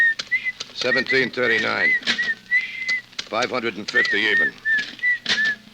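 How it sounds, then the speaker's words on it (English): A person whistles a high, wavering tune in short repeated phrases, interleaved with someone talking nearby. "stop that creepy whistling, will you?"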